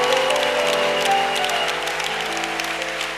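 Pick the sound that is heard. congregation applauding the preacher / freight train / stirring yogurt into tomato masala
congregation applauding the preacher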